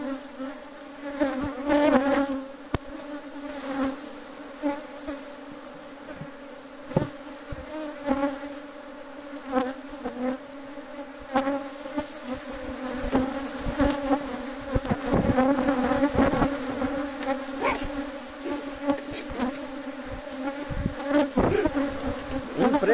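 Dense swarm of bees buzzing steadily around hive boxes after a colony split, a continuous droning hum with close passes of individual bees rising and falling over the full stretch.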